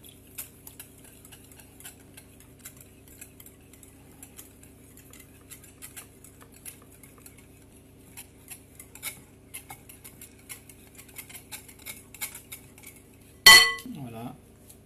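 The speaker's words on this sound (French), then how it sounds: "Je mélange." Spoon scraping and ticking against a bowl while a strawberry-rosemary tart mixture is stirred, a steady run of light clinks through quiet, ending in a sudden louder knock.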